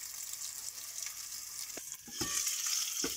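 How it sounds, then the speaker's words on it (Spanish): Potatoes fry in a pan for patatas a lo Wendy in a steady, close hiss of hot oil. A few soft clicks and stirs sound near the end. "vamos poniendo unas patatas a la par. Y ya está, vamos a empezar a que se dore todo"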